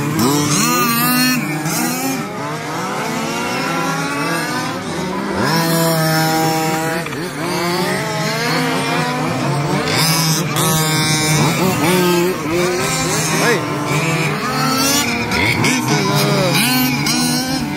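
Several 1/5 scale two- and four-wheel-drive RC touring cars race at Wagner Park, their small engines buzzing and whining loudly as they rev up and down through the laps, overlapping one another in close succession.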